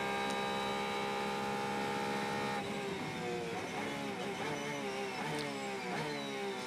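A GT race car at the 2019 Le Mans 24 Hours screams along the Mulsanne straight with a steady high engine whine, then shifts through rapid gear changes as the pitch repeatedly drops and climbs.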